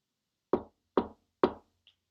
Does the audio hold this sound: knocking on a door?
yes